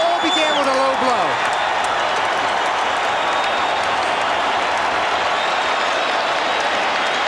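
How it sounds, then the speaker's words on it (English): Heavyweight boxing arena crowd at the Convention Center in Atlantic City cheering and applauding, a dense, loud, sustained roar of clapping and voices, with a few brief whistles near the start. "The crowd loves it."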